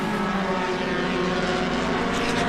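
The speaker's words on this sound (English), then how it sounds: "you have a beautiful blue Mustang purring right behind him" A blue Mustang race car's engine drones steadily at a road-racing event, a loud, constant harmonic hum that holds without pause, with no talk over it.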